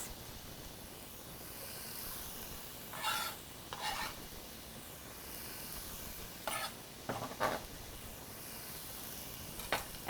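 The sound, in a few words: peppers and onions sautéing in olive oil in a skillet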